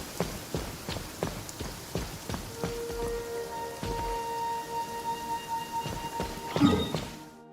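Rain falls in the video game Genshin Impact, heard as a steady patter with regular heavier drop-like thuds. A sustained musical tone enters partway through and it builds to a louder burst near the end, with no talk.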